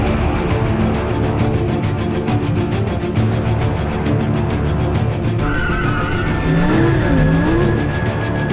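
A car, likely a Lamborghini Huracán with a naturally aspirated V10, roars loudly and steadily, then sharp tire squeals rise and waver near the end as the tires skid under braking, with no talk.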